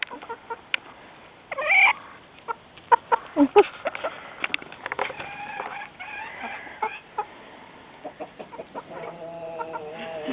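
Chickens cluck and squawk in short, irregular bursts close by while being hand fed, with sporadic louder calls and scratchy movement between them.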